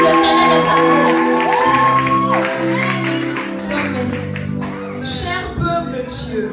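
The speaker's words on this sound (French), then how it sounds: "Tu vas te lever et pousser les cris de joie pour l'éternel des armées." A church congregation at a back-to-school service cheers, shouts and whoops with joy over sustained music, a dense loud crowd with clapping, and a voice carrying through the noise.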